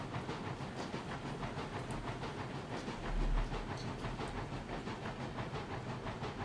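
A locomotive running in the RailRoads Online train game chugs in a fast, even rhythm with hissing and clattering wheels, steady and fairly faint throughout, with a brief swell near the middle.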